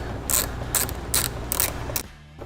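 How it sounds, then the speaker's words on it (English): Ratchet loosening Torx T40 bolts on a Jeep Wrangler side mirror: five quick bursts of clicking pawl at a steady rhythm, close and clear over a faint background hum. "This comes with a ratchet and the Torx tool to remove the mirrors."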